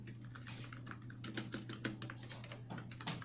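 Quick, light clicking of keys being typed on a wireless keyboard, close up, in irregular bursts over a low electrical hum.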